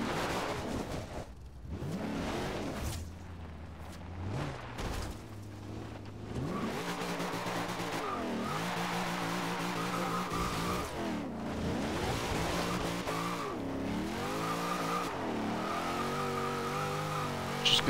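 A car drifting in fourth gear. The engine revs rise and fall with changing pitch, and tire squeal and skidding come through in bursts over about eighteen seconds. The sound is moderately loud and close, with no talk.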